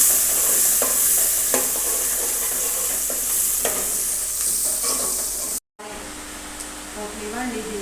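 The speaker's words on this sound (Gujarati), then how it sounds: "તો ડુંગળીને આપણે બરાબર તેલમાં પકાવી દઈશું." Chopped onion frying in hot oil in a pan, cooked with cumin and asafoetida for Gujarati dal dhokri, giving a steady loud sizzle with stirring scrapes throughout, broken by a short dropout near the end.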